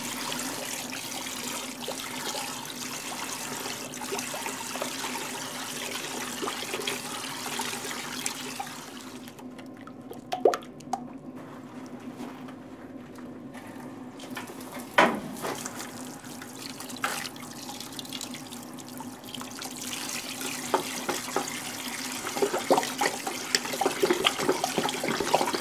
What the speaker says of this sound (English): We're just going to fill the bucket with hot water.